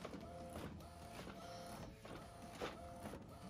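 A McLaud Mp1700 DTF printer prints on roll media, giving a continuous mechanical whir with repeated carriage sweeps and soft clunks, heard alone at moderate distance.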